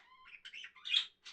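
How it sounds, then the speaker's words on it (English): Small pet birds chirp and tweet nearby in a quick string of bright, twittering calls with short pauses between them, with no talking over them. "Let me show you these birds for a second since you've been hearing them chirp this whole time."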